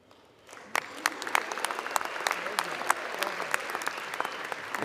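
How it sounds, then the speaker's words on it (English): Applause breaks out in a congressional chamber during a swearing-in, many hands clapping steadily after a quiet start, with sharp individual claps standing out and faint voices underneath. "She's clapping."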